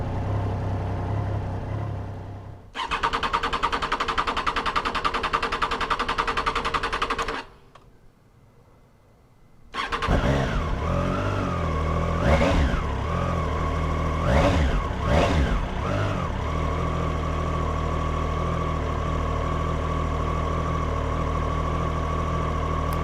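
A 2022 Triumph Tiger Sport 660 motorcycle on a cold start, the starter cranking in a loud burst, a short quiet gap, then the engine catching and settling into a steady idle with a few throttle blips.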